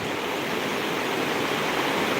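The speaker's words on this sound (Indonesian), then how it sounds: "Ya Allah, ya Rabbi hujannya begitu besar, tapi rezeki sudah diatur" Heavy rain pours as a dense, even hiss of broadband noise, steady and fairly close, with no voices.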